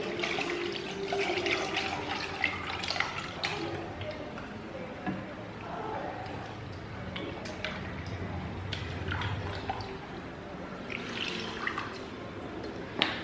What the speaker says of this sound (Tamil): இப்போ தண்ணி ஊற்றிட போகிறேன்.